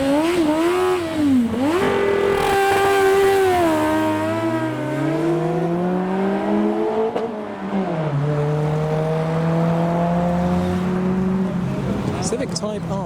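A Honda Civic Type R accelerates hard past spectators at a JDM drive-by car show, its engine note climbing through gears with a shift before it fades into the distance, while onlookers talk over it.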